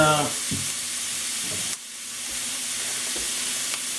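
Sliced mushrooms, about seven or eight, sweating down in a hot pan give a steady close sizzle and hiss throughout, with a few soft stirring knocks and no talking.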